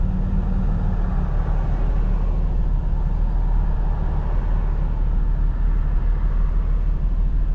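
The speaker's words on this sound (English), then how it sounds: "car after car after car." Steady roar of traffic on Georgia Highway 5 north between Tate and Jasper, with cars, trucks and vans rumbling past continuously, loud and close, no voices.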